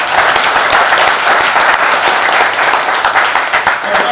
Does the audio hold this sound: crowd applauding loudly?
yes